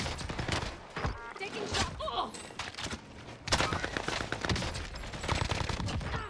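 Gunfire in Call of Duty Warzone on Rebirth Island, loud rapid bursts and repeated shots throughout, dense and close, with a heavier volley near the midpoint.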